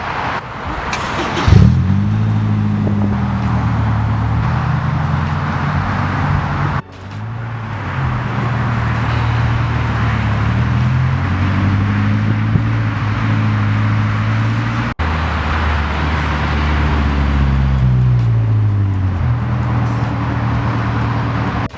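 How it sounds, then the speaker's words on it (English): A Honda S2000 fitted with bronze Volk TE37 wheels drives away. Its engine hums steadily and fairly close, rising and falling through gear changes, with light road noise and no talking. "All right, I'm gonna have Giraffe drive the car. We'll see how it is rolling, dude."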